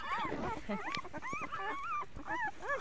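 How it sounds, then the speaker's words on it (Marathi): Newborn puppies only two or three days old, eyes still closed, crying in a cluster of high, wavering whimpers and yips, close and continuous, with the mother dog nearby. "तिचे पिल्ले वरडायलेत"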